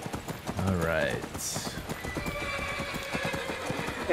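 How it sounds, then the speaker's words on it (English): A horse in Skyrim lets out a loud, rising whinny over rhythmic clip-clop hoofbeats, while a nearby voice talks through and after it. "Bonus horse whinnies."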